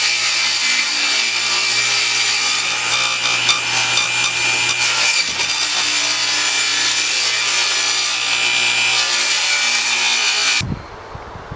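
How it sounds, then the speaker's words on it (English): A circular saw makes a plunge cut into wood, a loud steady whining rasp that lasts about ten seconds and then stops abruptly, with no talk over it. "I can do a plunge cut with my circular saw."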